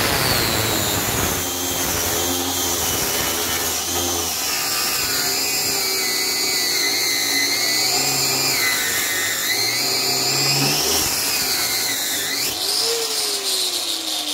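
A 750 W Bosch PWS 750 angle grinder with a grinding disc is pressed hard against material, giving a loud, continuous high whine that sags and strains under the load and then rises again near the end.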